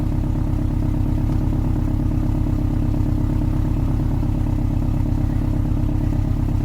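Stock muffler exhaust of a 2005 Subaru WRX wagon, a steady close low rumble from an idling or running engine with a dense pulsing drone that holds level throughout.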